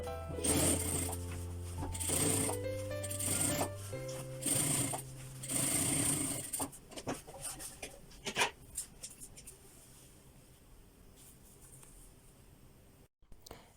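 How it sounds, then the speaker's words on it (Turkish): A domestic sewing machine stitches a straight seam along a sleeve cuff, giving a close steady mechanical whir and rattle for several seconds before it stops, followed by quiet handling and faint clicks. "Kol ucunu düz dikiş diker gibi dikeceğim."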